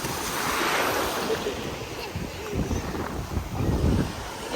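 Sea waves washing ashore at Boqana beach in Nador, Morocco, a rolling surf roar mixed with gusty wind buffeting the microphone, swelling and receding in uneven surges.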